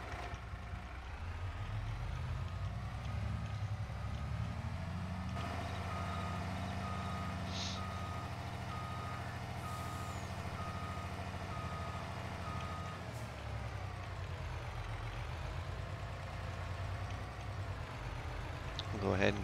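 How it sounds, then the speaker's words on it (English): Trucks maneuver in the farming game Farming Simulator 22, a steady idling diesel engine rumbling throughout while a repeating reversing beep chirps for several seconds, with someone talking intermittently over it. "let's get our trucks out of here and get them filled up"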